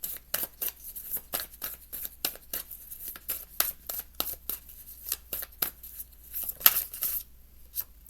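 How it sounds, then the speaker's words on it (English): Tarot cards are pulled from a deck and shuffled, giving a close, quiet series of crisp flicks and snaps at an uneven pace. "I'm going to pull all the cards"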